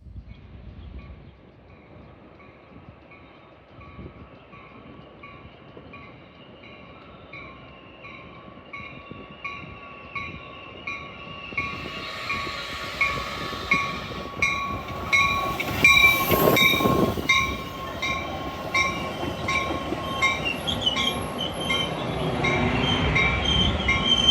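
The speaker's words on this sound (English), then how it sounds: "You just watched the Metro Union Pacific North train arrive at the Peterson and Ridge station on the north side of Chicago." Metra Union Pacific North commuter train pulling into the Peterson and Ridge station on Chicago's north side, rumbling closer with rhythmic wheel clatter, a loud horn blast midway, and squealing wheels as it slows.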